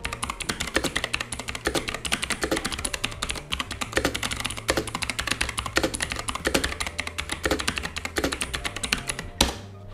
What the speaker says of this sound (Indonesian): Razer Mechanical Green ini punya feel yang gimana ya, garing gitu, feedbacknya nggak membal tapi suaranya seakan-akan clicky.